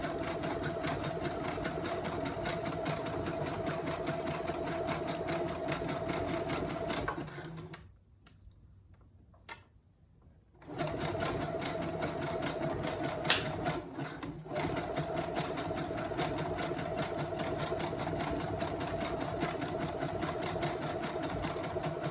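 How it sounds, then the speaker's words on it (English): Up close, a sewing machine runs at a steady rapid clatter while stitching wig tracks, pausing for a few seconds partway through before starting up again for back and forward stitching. "here you're going to see me back stitch a couple of times and forward stitch a couple of times just to secure the ends of the track"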